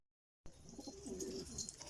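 Domestic pigeons in a loft cooing softly, a few low murmuring coos close by over faint background rustle, starting abruptly after a moment of silence.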